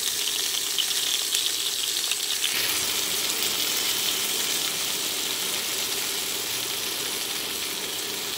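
Potatoes and ridge gourd are added to hot oil and fry with a loud, continuous close sizzle. The hiss surges when the vegetables go in and then settles into a steady crackle with no talking.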